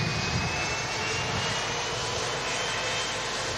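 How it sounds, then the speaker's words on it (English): An EasyJet Airbus A320 jet airliner departing from a runway, a steady, loud broadband jet engine roar with a constant rushing hiss that holds evenly throughout, no voices. "the aircraft lines up to depart, in this case the EasyJet A320."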